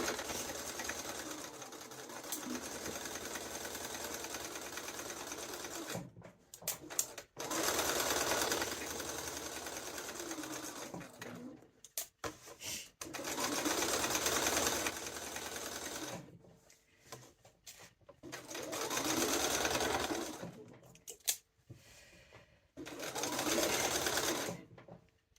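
A sewing machine stitches two pocket bags together in a sewing studio, running in several long, steady bursts with short pauses between, close and clear.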